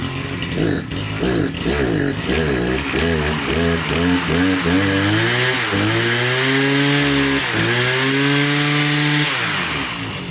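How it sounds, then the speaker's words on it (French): A Sparta brush cutter starts and runs close by, its loud two-stroke engine revving in rising and falling surges before settling into a steady high whine, with no voices over it. "La Sparta, bon pareil, un petit démarrage en live, hein, ça pourrait être pas mal."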